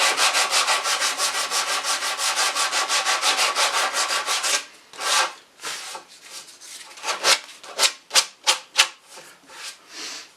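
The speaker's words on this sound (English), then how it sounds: "you can hit that with a little bit of sandpaper" Sandpaper rubs the edge of a wooden chair up close: a long run of fast, even back-and-forth strokes, then slower, separate scratchy passes with short gaps between them.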